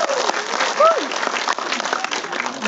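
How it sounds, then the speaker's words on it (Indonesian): Audience applause during a post-screening talk with a film's director and cast in a cinema in Sumenep, a steady clatter of clapping with a brief voice-like tone mixed in partway through. "Kita beri tepuk tangan."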